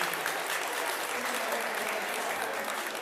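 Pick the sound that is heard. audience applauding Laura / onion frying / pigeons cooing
audience applauding Laura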